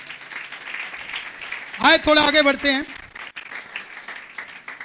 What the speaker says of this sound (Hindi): स्टीफन भाई के लिए तालियां।